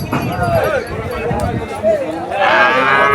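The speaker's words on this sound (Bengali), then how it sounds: "এখানেও বেশ বড় বড় গরু আছে, যেগুলো আপনারা দেখতে পাচ্ছেন" Large cattle at a busy riverside cattle market in Habibpur, Barishal, low calls among the herd mixed with crowd noise, with someone talking over most of it.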